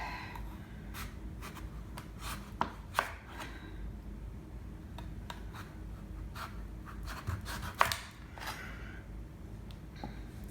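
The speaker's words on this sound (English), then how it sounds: "cutting it this way is easier. So, and this is a hard thing to cut." Knife cutting through a hard raw rutabaga on a cutting board, faint scraping and crunching strokes with a few sharper cracks as the blade pushes through, quiet and close.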